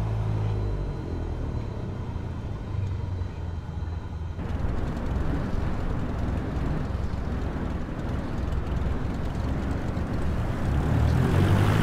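A simulated Cessna 172 propeller engine drones steadily in Microsoft Flight Simulator 2020 during a flight from Nicaragua to Costa Rica, a loud continuous rumble that shifts character partway through and swells toward the end.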